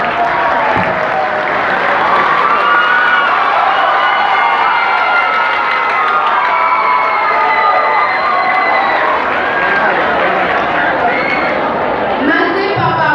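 Audience clapping and cheering at the grand final of an eloquence contest, a loud sustained roar of applause, whoops and crowd voices that carries on for the whole thirteen seconds.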